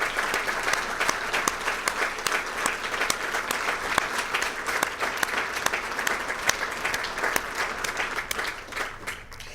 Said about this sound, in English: Can we give these guys a round of applause?